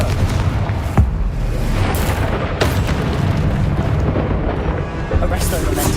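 A Confringo fire spell detonating in the video game Hogwarts Legacy: dense, rumbling booms and bursts layered over continuous loud battle noise, with sharp blasts near the one- and two-and-a-half-second marks.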